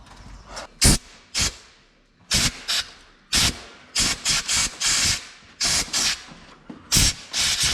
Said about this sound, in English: I could really use like the air nozzle.